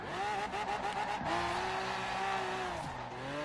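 A Lamborghini Aventador engine in Forza Horizon 4 revs loudly through a gear change, its tone dropping, then climbing steadily in second gear. Tire squeal mixes in, and no one speaks.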